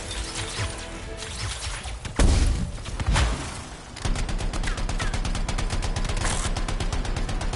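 Rapid, sustained light machine gun fire in the video game Anthem, a loud rattling stream of shots after a couple of heavy booms, with mechanical clanking, no talking over it.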